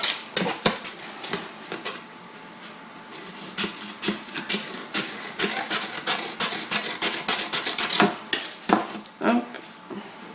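Cover material for a handmade craft project being cut, with a run of crisp snipping and scraping clicks at an uneven rhythm, close and moderately loud, and no talking.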